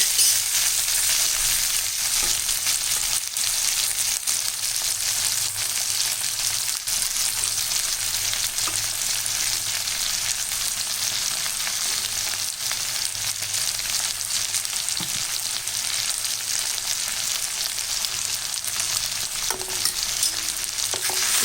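Brinjal fries with masala powder in a pan, a loud, continuous close-up sizzle with soft scraping as it is stirred, and no voices.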